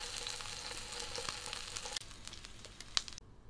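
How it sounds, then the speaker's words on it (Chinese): Pieces of yellowfin tuna pan-frying in a hot pan, a soft close sizzle with a few crackles and a sudden cut partway through. "现在咱们煎的已经非常到位了"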